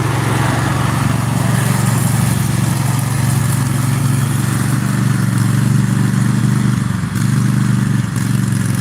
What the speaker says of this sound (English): I guess they're mowing the grass right here.